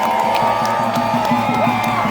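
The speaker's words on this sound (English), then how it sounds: "Big round of applause for Uncle Gary," Rally crowd at a Free Palestine protest in Melbourne cheering and applauding, a dense continuous roar with whoops, steady and loud throughout, with a sustained tone running beneath.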